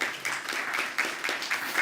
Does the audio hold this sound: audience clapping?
yes